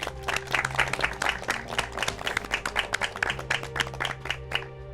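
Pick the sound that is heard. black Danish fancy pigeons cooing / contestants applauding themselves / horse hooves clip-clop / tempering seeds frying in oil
contestants applauding themselves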